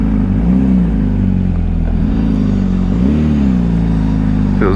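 Engine of a 2025 Honda CBR600RR sports motorcycle running close by on a test ride, a steady loud drone with two throttle blips that rise and fall in pitch, heard alone with no talk.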